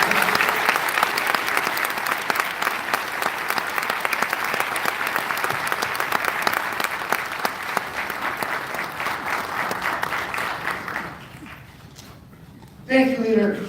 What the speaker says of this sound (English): a big round of applause again for Andrew Stewart-Cousins and Martinez